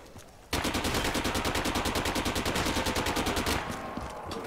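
Rapid automatic gunfire from the Shoe Shiner 100 in Black Ops 3 Zombies on The Giant, a steady stream of close, evenly spaced shots lasting about three seconds before stopping abruptly.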